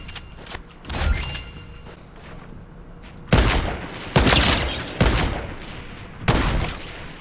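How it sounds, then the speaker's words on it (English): Lever action shotgun firing in Fortnite, about five loud booming blasts spaced roughly a second apart after an earlier softer burst, each shot sharp and close with a short decay. "I'm gonna go to the lever action shotgun."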